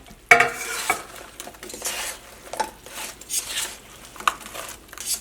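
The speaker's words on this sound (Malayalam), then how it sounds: "അപ്പം ഇതിലേക്ക് നമ്മൾ നമ്മുടെ വറുത്ത് വെച്ചേക്കുന്നത് ചേർക്കാം കേട്ടോ" Spoon scrapes and stirs fried wheat-flour snack into caramelizing sugar in a thick pan, with irregular clinks and a faint sizzle, close up, no talking.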